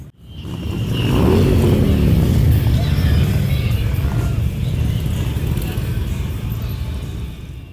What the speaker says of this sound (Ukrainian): Потужні байки та рев двигунів чулися і на міжнародному етнофестивалі Країна мрій у Києві.